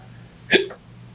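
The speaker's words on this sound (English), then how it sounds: "I hate hiccups." A single sharp hiccup pops out mid-clip, brief and close, over a quiet background hum.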